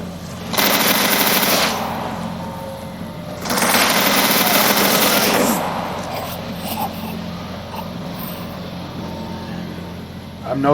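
Automatic gunfire in the shooter game Anomaly, heard as two sustained rapid bursts separated by a pause, with steady ambient game noise throughout and no speech.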